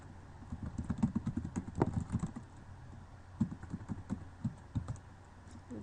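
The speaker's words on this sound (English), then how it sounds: "I'm just going to type what I should have on my first page." Typing on a computer keyboard nearby: a steady run of quick, light key clicks in bursts, with a short pause midway before the tapping resumes, no voices.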